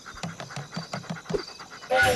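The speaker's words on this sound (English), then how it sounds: "I'll deal with that dog" A dog in the video game Voodoo Vince pants in quick, rhythmic breaths, about a dozen close puffs in a row, before a louder burst of game noise cuts in at the end.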